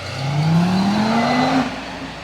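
Powerful Audi RS3 engine revving up on a street in Bologna's Pilastro neighbourhood, one sustained rising rev lasting about a second and a half, loud and fairly close, then dropping away.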